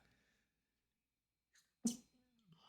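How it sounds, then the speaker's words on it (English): A single sharp sneeze bursts out after near silence, followed by a brief breathy sound. "I cannot stop sneezing"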